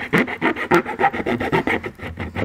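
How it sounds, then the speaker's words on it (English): A hand file scrapes burrs from a freshly cut trailer hitch opening in the rear fascia of a 2012 BMW X5, steady back-and-forth rasping strokes, close and loud, with no talking. "I'm just gonna go back here with a file and just kind of clean up these burrs"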